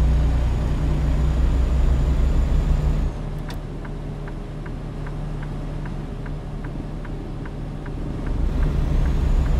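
A Freightliner truck engine idles and hums in American Truck Simulator, a steady low drone that drops quieter for several seconds while a regular ticking indicator clicks, then the engine swells back up.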